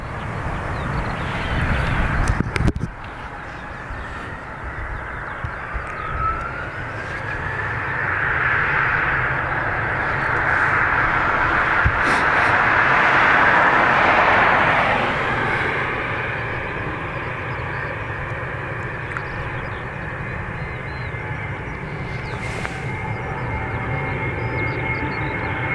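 An Airbus A321 departs Dublin Airport, its jet engine roar building into a loud, sustained rush with a rising whine, then slowly easing as it climbs away.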